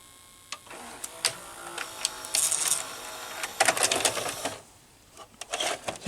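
A Panasonic NV-HD100PX VCR with a die-cast aluminum K mechanism ejects a cassette: a quiet run of motor whirs, small clicks and mechanical clunks over several seconds, close and fairly faint, with no talking.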